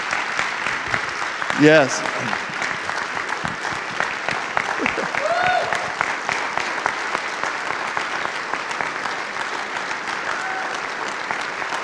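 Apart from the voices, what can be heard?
congregation applause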